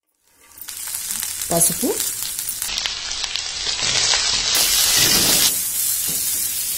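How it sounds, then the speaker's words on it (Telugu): Cut green beans tipped into hot oil with frying onions and garlic paste in a pan: a sudden loud sizzle bursts in after a short silence and keeps hissing strongly, with stirring clatter and a brief spoken word. "ఇప్పుడు కట్ చేసుకున్న బీన్స్ వేసుకుందాము"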